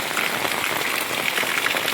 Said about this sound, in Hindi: अब लगी बरसात तक।